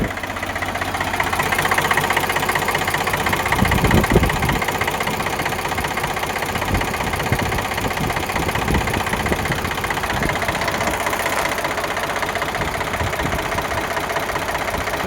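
A one-owner Eicher 485 tractor engine idles steadily nearby, a loud continuous diesel chug with a knocking texture and no talk, running unchanged throughout.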